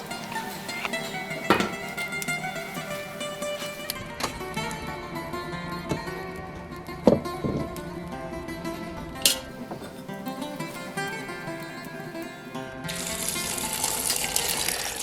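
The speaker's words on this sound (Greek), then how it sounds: "θα χύσω το πρώτο νερό." The first boiling water poured out of a pot of beans for traditional Greek bean soup, a running, splashing stream of water into a sink with occasional clinks of the pot, steady and close, getting brighter toward the end.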